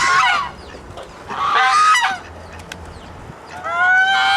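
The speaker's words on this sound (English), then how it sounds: "as you can see, I'm feeding the ducks." Waterfowl being fed at the Martin Mere wetland give loud, goose-like honking calls in three close, raucous bursts separated by short lulls.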